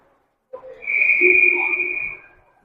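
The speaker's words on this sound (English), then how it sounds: "And we have a whistle." A referee's whistle at a youth bantam ice hockey game sounds one sustained, fairly loud blast of about a second and a half, rising sharply and then tailing off, with faint rink noise around it.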